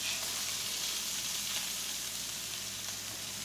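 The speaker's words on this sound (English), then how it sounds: "now we're just going to put our aromatics right in with the sausage" Aromatics hitting a pan with sausage for jambalaya, a dense, even hiss of sizzling that stays constant throughout, close but fairly quiet.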